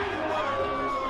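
Southern Cross supporters cheer and shout from the sideline at a girls' championship final, a sustained loud crowd roar with whoops and yells throughout.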